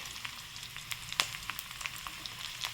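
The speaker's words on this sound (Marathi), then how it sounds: "लसूणला लाल रंग येऊ द्यायचा छान, एकदम तळानं छान की टेस्ट छान येते" Garlic frying in oil, cooked until reddish, sizzles quietly with a steady crackle and scattered sharp pops and spits, one louder pop near the middle; no voices.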